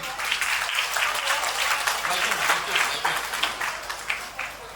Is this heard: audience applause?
yes